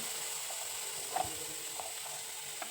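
Spice paste sautéing in a pan gives a soft, steady sizzle, with a couple of faint clicks and scrapes from stirring and no talking.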